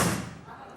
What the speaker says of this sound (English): we're setting off an explosion